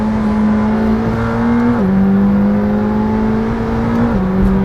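A McLaren Senna's mid-mounted engine drones loud and close, holding a steady high pitch that drops sharply at gear shifts as the car pulls hard.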